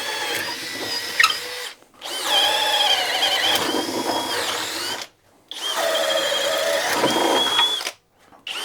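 A cordless drill bores with a 1-inch bit at its lowest speed setting: three sustained bursts of loud, close motor whine and cutting grind, separated by short silent pauses.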